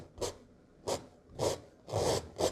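Firm strokes of an oil paint brush dragging across canvas in a wet-on-wet landscape painting, five separate raspy scrubbing swipes in uneven rhythm, close and fairly quiet with no voices.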